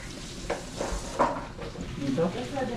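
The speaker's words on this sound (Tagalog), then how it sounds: "Cooking sausage, Portuguese sausage" Portuguese sausage sizzles and crackles steadily as it fries in a pan, with occasional stirring scrapes and a few louder pops, heard up close at a low, continuous level.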